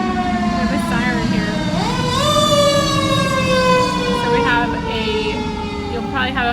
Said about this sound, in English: Oh, we have a siren